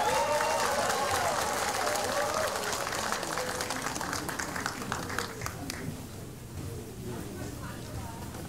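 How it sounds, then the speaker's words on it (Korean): Crowd applause at a Moon Jae-in political campaign rally in Jeonju or Gwangju fills the space, loud and sustained clapping that gradually thins and fades, with speech over it. "큰 박수로 맞아주십시오."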